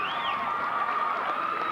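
A 1990 high-school basketball crowd at North Attleboro roars and cheers for the home team, a sustained, fairly faint wash of voices with no distinct single shouts.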